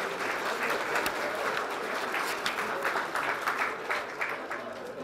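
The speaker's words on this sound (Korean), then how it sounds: "축하의 박수 좀 부탁드립니다." Sustained applause at a party meeting of lawmakers and regional committee chairs in an indoor hall, a dense, even wash of many hands clapping that holds steady for several seconds.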